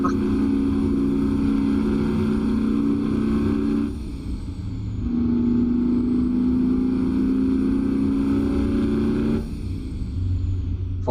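A truck engine in the American Truck Simulator game drones and strains while stuck in high gear, a loud sustained tone that dips briefly twice, with someone talking over it.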